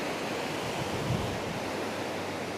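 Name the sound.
sea waves on a beach in Zambales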